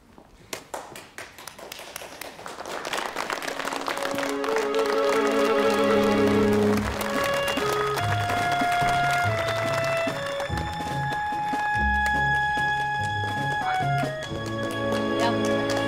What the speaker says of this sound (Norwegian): gi en varm applaus til deres nye dirigent